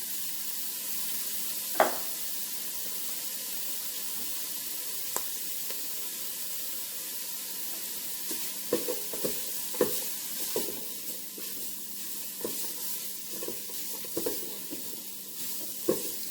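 Andouille sausage frying in vegetable oil and being stirred: a steady sizzling hiss runs throughout, with soft scraping and clinking stir sounds popping up at intervals, especially in the second half.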